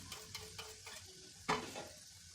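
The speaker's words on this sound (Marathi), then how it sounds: "हिंगसुद्धा या गरम तेलामध्येच घालून घ्यायचा आहे" Asafoetida and spices sizzle and crackle in hot oil for a mango pickle tempering, with a few stirring scrapes and one sharper hiss midway; close and fairly quiet, no talking.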